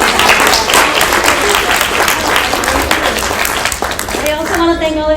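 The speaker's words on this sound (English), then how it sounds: "Let's give our author panel a round of applause." Sustained audience applause for an author panel at a school library conference, dense clapping filling the room throughout with a voice starting to speak over it near the end.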